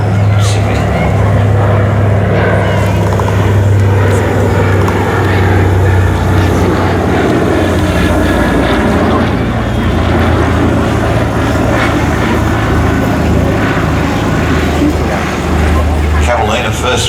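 Catalina flying boat in flight at an air show, a steady droning propeller engine rumble that stays loud and constant throughout, with talk over it.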